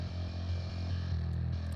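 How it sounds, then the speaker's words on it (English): Bass line of a song playing back, a steady low, thick rumble with faint higher texture, continuous and fairly quiet for under two seconds. "So the bass in that song sounds something like this."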